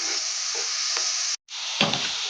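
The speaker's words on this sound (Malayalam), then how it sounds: "നമ്മുടെ നേന്ത്രപ്പഴം നെയ്ക്കകത്തൊന്ന് ഇച്ചിരി റോസ്റ്റ് ചെയ്തെടുക്കാം." Ripe nendran plantain sizzles steadily as it roasts in ghee, a bright continuous hiss with a brief gap, then a fuller crackling burst as the pieces are stirred.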